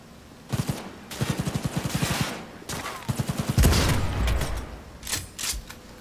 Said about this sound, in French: C'est dément, les tirs au snipe